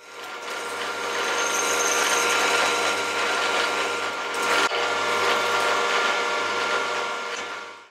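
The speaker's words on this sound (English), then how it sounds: "I'm going to drill an 8mm hole straight through" A drill bores an 8mm hole straight through a metal plate, a steady, loud grinding whir that holds for several seconds with a brief catch midway before spinning down.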